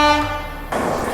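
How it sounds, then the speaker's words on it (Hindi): The Maharashtra Sampark Kranti Express passes on an Indian main line, opening with a loud sustained horn blast that cuts off into the roaring rush of the train going by close at speed. "तो सामने से आ रही है महाराष्ट्र संपर्क क्रांति एक्सप्रेस"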